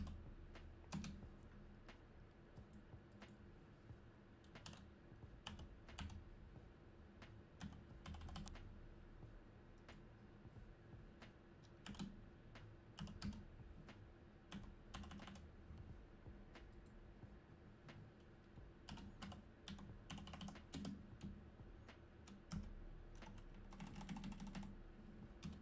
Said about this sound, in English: almost done typing.